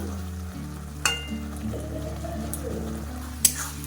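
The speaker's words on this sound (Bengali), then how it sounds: "এবারে আমি ভালোভাবে একটু নাড়াচাড়া করে নেবো যতক্ষণ না বাঁধাকপিটা একটু শুকনো শুকনো হয়ে যাচ্ছে" Shredded cabbage for cabbage paturi is stirred in a frying pan until it dries, with a low continuous sizzle, faint scraping and two sharp utensil taps.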